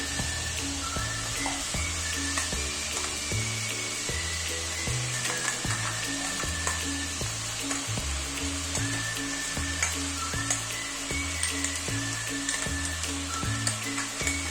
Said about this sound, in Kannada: ಈಗ ನಾವು ರುಬ್ಕೊಂಡಿದ್ದೀವಲ್ಲ ಮಸಾಲೆ, ಈರುಳ್ಳಿ, ಹಸಿರು ಮೆಣಸಿನ್ಕಾಯಿ, ಪುದೀನ ಹಾಕ್ಕೊಂಡು ಆ ಪೇಸ್ಟ್ನ ಇವಾಗ ಸೇರಿಸ್ಕೊತಾ ಇದ್ದೀನಿ